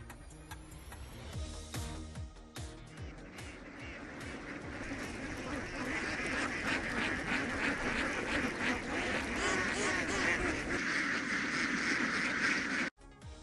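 A large flock of paddy-field ducks herded through farm fields quacks continuously as a dense, loud chorus that fills the whole stretch without pause.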